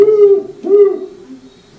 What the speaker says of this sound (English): Classic hoot owl sound.